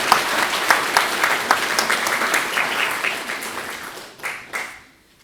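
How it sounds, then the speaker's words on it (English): An audience at a physics society lecture claps to welcome a speaker, crisp and close at first, then thinning out and tapering to a few last claps and silence. "Shall we welcome him with a round of applause?"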